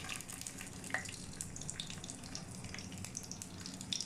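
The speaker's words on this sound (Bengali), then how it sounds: "এটার মধ্যে আমি একটু রসুনটা ভেজে নেব।" Garlic frying in mustard oil in a pan, giving a steady, close crackling sizzle with scattered small pops throughout and no talking.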